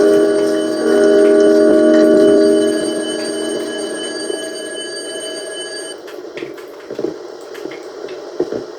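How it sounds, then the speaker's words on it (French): Telephone ringing inside the Minecraft horror mod From the Fog, a loud, steady electronic ring tone that sounds continuously for a few seconds and then gives way to quieter game noises and scattered clicks. "Le téléphone, il sonne encore."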